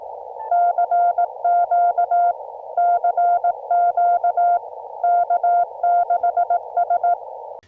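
Yaesu FTDX10 transceiver sending CW Morse code: a steady tone keyed in rapid dots and dashes, clear and close, in three bursts separated by short pauses, over a faint background hiss.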